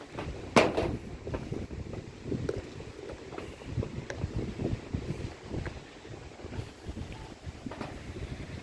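Strong wind gusts buffet a house construction site, making a continuous rushing roar with microphone buffeting and a sharp knock near the start.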